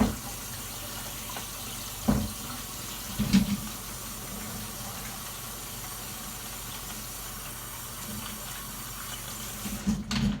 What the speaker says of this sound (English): Be sure to wash your hands with hot, soapy water.